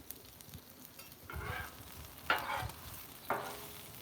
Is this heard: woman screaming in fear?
no